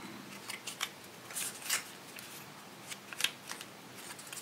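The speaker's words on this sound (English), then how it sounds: "And then just keep folding them over one another until you run out of paper." Paper being folded into a concertina for a chalk butterfly craft, with soft, scattered crisp creases and rustles at irregular intervals, quiet and close.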